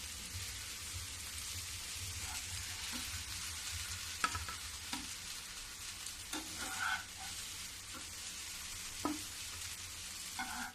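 Sliced bottle gourd fries and sizzles in a pan, a steady dense crackle with occasional sharper pops and stirring scrapes, close and continuous throughout without any talking.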